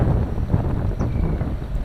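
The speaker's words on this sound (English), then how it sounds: "hopefully with this wind blowing, it's supposed to be sunny and windy" Steady wind blows across an open hay field during mowing, rushing continuously and buffeting the microphone.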